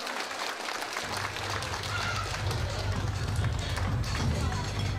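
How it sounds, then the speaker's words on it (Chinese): Guests at a Chinese wedding reception in a Toronto seafood restaurant banquet hall clap for the processional, a broad wash of applause rising after a second, with music and crowd murmur underneath. "首先要听听你们热诚的掌声，好不好？"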